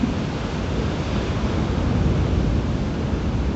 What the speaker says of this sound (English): the water's coming up and splashing down